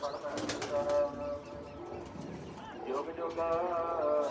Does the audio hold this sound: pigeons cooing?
yes